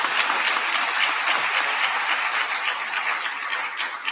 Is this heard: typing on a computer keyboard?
no